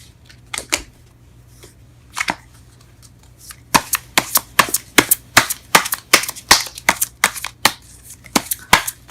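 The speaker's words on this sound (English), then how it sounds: "let's go ahead and pull some cards in regards to your reading" Tarot cards being shuffled and riffled alone, a run of sharp crisp snaps and flutters, sparse at first then fast and rhythmic, close and fairly loud against a quiet low hum.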